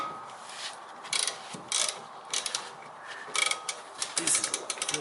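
Ratcheting socket wrench with a 14 mm socket working on a Toyota Corolla rear brake caliper, short bursts of quick clicking repeated several times, fairly faint and close, with no speech.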